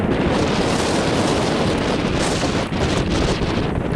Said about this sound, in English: the wind's died down a little bit